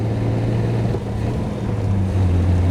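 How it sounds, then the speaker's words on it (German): A 1933 Lagonda M45 prototype engine runs steadily while driving, a low, continuous rumbling drone with wind noise, close and fairly loud. "Toller Motor. Oh, der fährt schön. Der läuft super."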